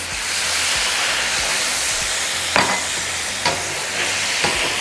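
Beef and broccoli stir fry sizzles loudly and steadily in a hot pan as sauce is added, with a few brief stirring clanks over the constant hiss and no talking.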